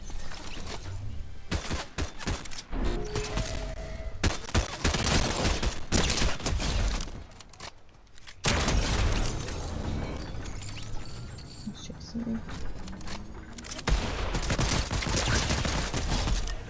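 Dense, rapid bursts of gunfire and mechanical clatter fill a Fortnite Zero Builds trios match, loud and nearly continuous with brief gaps, and no clear talk.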